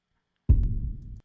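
A shoe box struck and sampled as a layered bass drum: a single deep, booming thump with a soft attack click that rings out for most of a second before cutting off, close and alone.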